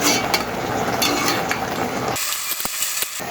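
Red amaranth greens being stirred in a pan, a steady wet sizzle and rustle filling most of the clip, then a quieter stretch with a few faint clicks near the end.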